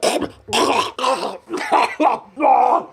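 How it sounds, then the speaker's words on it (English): A person coughing: a series of five or six harsh, close bursts with short gaps between them, loud and raspy with a throaty, groaning edge. "I was coughing."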